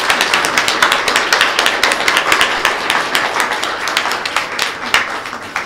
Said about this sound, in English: join me in applauding our Board of Trustees